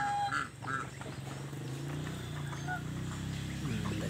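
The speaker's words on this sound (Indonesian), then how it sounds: "Ini suang menetas 4 ekor lucu-lucu." Four newly hatched white swan cygnets give soft, high peeping calls in short bursts, close by, over a steady low background hum.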